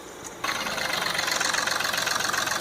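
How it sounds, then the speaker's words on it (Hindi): A Mahindra TUV 300 engine, just repaired for a black smoke problem, catches after a brief quiet moment and settles into a steady, evenly pulsing idle, close and moderately loud with no talk. "ये हमारा इंजन स्टार्ट हो चुका है,"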